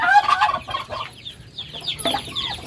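Chickens and chicks on an integrated farm: several close clucks and higher peeping calls come in quick, uneven bursts, alone with no talk.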